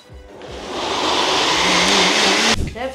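A mixer grinder whirs loudly up to speed while blending soaked cashews, a dense roaring buzz that holds steady for about two seconds before cutting off abruptly, close by.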